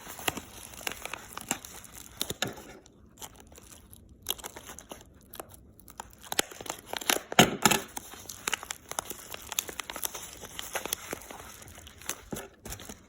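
Slime packaging is cut and torn open nearby, giving irregular crinkling and crunching plastic rustles with a louder burst of tearing midway and short quiet gaps, no speech.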